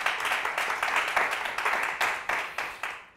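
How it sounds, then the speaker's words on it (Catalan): A studio audience at the Catalan quiz show Pica Lletres applauds a team of contestants with a moderately loud, steady round of clapping in repeated swelling waves that fades near the end. "Un fort aplaudiment per elles"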